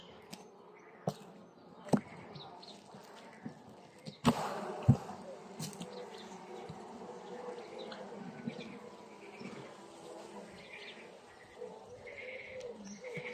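A dense, steady buzz of mixed-breed honey bees (Carniolan, Carpathian) fills the scene at close range at the hive, with a few sharp knocks and thumps early on over the continuous droning.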